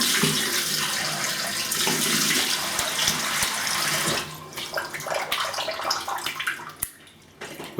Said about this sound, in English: I'll have a quick rinse with cold water.